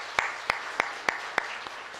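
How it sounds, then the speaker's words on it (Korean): A church congregation at a Sunday service claps to encourage its church school teachers, heard as sparse, evenly spaced claps, about seven in two seconds, with quiet room tone between. "다시 한번 큰 박수로 한번 격려하도록 하겠습니다"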